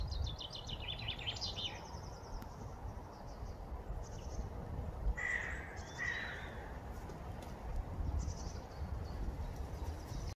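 Crows caw from trees around a watering spot on a walking trail near Ogre, their harsh calls faint and distant over steady outdoor background noise.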